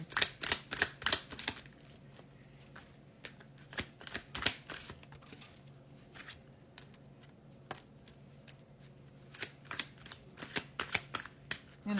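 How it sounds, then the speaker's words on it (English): Tarot cards shuffled and drawn, close riffling bursts and quick flicks clustered at the start, middle and end, with quieter handling between and no talking. "I'm gonna pull the cards"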